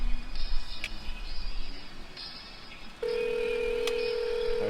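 A telephone call is placed: brief dialing tones, then a steady electronic ringing tone that holds loud and clear to the end.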